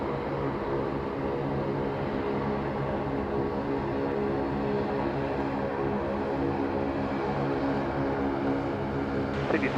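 A Qantas airliner arriving at Sydney Airport after a flight from Los Angeles, its engines giving a steady, loud roar with a dense rumble that holds constant throughout, with no voices.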